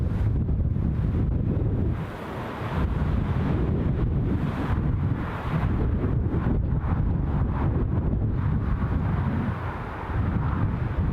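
Strong wind buffets the microphone outdoors at Newcastle International Airport, a loud continuous rumbling roar that surges in gusts and briefly eases twice, with no voices.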